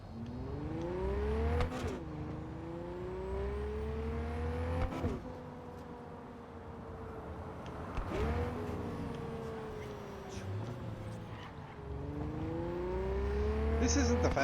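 A car engine in the Cyberpunk 2077 video game revs up repeatedly while driving, rising whine climbing in pitch then dropping at each gear shift, four cycles of steady acceleration with a low rumble underneath.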